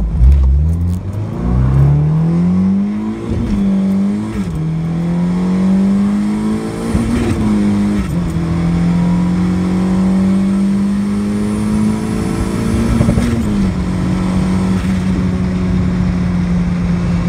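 Turbocharged Honda D16Z6 engine with a stock Y7 block and head, accelerating hard at 18 psi of boost, a loud, steady, climbing engine note with brief dips at the gear shifts and no talk over it.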